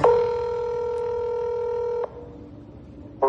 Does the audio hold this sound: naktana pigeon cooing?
no